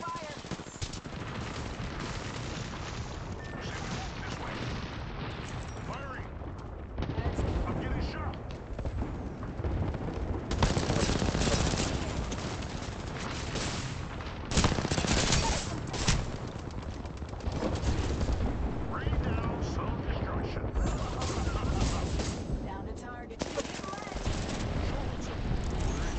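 Bursts of rapid automatic gunfire and individual shots from the Apex Legends video game, loud and dense, coming in waves over a constant background, with voices speaking at times.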